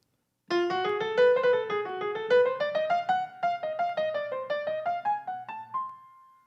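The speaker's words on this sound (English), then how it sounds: "if we made a melody out of a diminished scale, it might sound like this." Solo piano plays a short melody built on a diminished scale, steady, detached notes climbing gradually upward, ending on a sustained high note.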